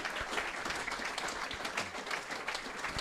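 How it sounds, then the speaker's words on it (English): A round of applause from the audience at an evening event with a footballer, steady dense clapping filling the room at moderate distance, continuous throughout without talk. "Nice round of applause"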